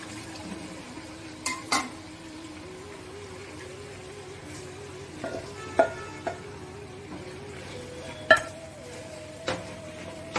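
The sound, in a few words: ground masala and vegetables cooking in a pan with water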